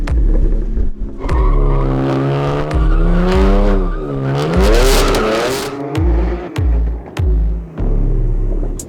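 A BMW M3 and M340i launching side by side in a drag race, engines revving hard with rising tones through the gears, brief tire squeal, then sharp shift breaks as the cars pull away, loud and close.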